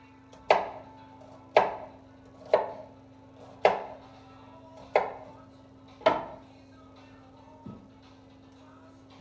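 Knife chopping down through potatoes against a cutting board, six evenly spaced sharp thuds about a second apart, then a softer seventh, close and clear over a steady low hum.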